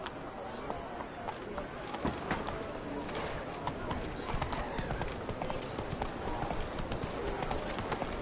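Roach, a horse in The Witcher 3, gallops with steady, rapid hoofbeats drumming close and loud, birdsong and cooing mixed into the background, and a voice speaking over it.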